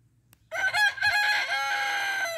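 A light Brahma rooster crows once, a loud close cock-a-doodle-doo lasting about two seconds after a brief quiet start.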